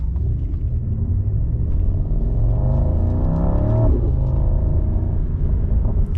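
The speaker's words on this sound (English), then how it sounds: "I just love hearing the sound of that exhaust." A deep, steady exhaust rumble from a Mercedes-AMG GT in race mode drones throughout, with a brief rise in revs partway through.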